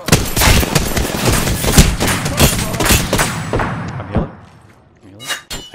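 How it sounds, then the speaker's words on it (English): Rapid bursts of gunfire from a battle-royale shooter match in Apex Legends, dense and loud for several seconds, then thinning to a few scattered shots with brief voice and effects near the end. "I hear other shots"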